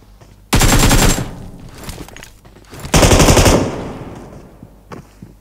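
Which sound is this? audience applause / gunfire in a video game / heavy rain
gunfire in a video game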